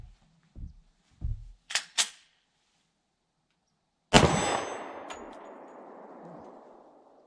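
Smith & Wesson M&P M2.0 10mm pistol shots ring steel targets at 15 to 18 yards: several sharp clangs in quick succession, then a louder shot whose metallic ring decays slowly.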